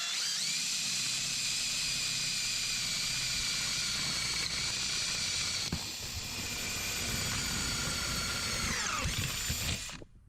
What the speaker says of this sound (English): I'm going to start by drilling and boring a 1/4-inch hole right through the middle of the pull bar